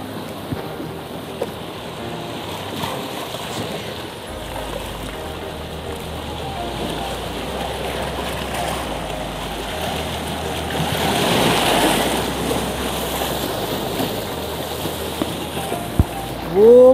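Sea water and waves wash along the shore below Aguada Fort in Goa, a steady distant surging with wind noise on the microphone and a louder swell partway through.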